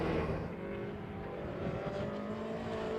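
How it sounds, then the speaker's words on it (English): A little classic MG Midget race car drives on a Scottish circuit during a classic sports and saloon car race, its engine a steady, droning roar that holds at a fairly constant level throughout, with no voices. "Michael Longstaff is quite quick in that little MG midget"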